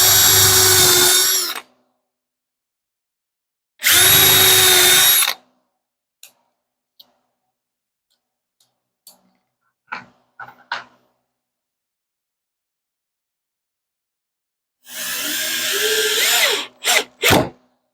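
A drill countersinks screw holes in a 2x4 in two loud, short bursts, then a third longer burst later, with scattered small taps and clicks in the quiet between, no talking.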